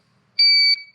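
A GZAIR travel carbon monoxide detector gives a single short, loud electronic beep, close and clear against near silence.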